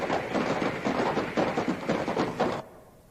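Two coconut halves clapped together quickly to imitate horse hooves, giving a brisk run of hollow, knocking clops in a galloping rhythm for about two and a half seconds before stopping.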